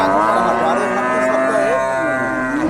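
Friesian dairy cow at a cattle market in Bogura, a single loud, sustained low moo close by, lasting the whole moment with no talking over it.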